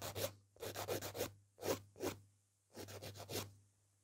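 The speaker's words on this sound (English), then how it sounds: "So when I'm filing for a coffin shape, I want to make sure they go nice and straight" Nail file rasping a fingernail into a coffin shape, heard as bursts of quick back-and-forth strokes separated by short pauses, close and fairly soft over a steady low hum.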